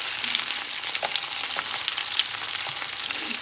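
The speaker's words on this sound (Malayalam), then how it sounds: "എണ്ണ ചെമ്മീൻ നന്നായിട്ട് ഫ്രൈ ആയിട്ടുണ്ട്" Shrimp frying in oil in a pan, roasted prawn dish, giving a steady dense crackling sizzle with small pops, close and fairly loud, no voices.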